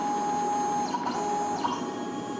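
A CNC6040Z-S80 router with spindle motor steps its axes through a few short moves, a steady high whine over constant machine hum with brief sweeping pitch glides as each axis starts and stops, close and fairly loud.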